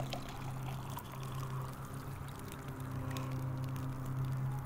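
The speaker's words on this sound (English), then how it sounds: "Just add boiling water." Boiling water pours steadily into a cup for tea in the game Brink of Consciousness 2, a continuous close trickling stream with a low hum underneath, no talk.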